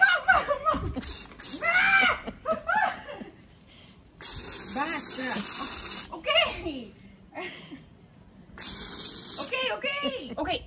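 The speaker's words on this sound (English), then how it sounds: "my mother's gonna spray me right now" Steady hiss of water spraying from a hose at a school field day comes and goes in long stretches, under laughter and excited talking.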